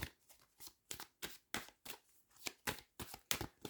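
Tarot cards shuffled by hand, a quick series of crisp riffling bursts in an uneven rhythm, close and fairly quiet with no talking.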